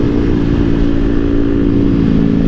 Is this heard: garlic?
no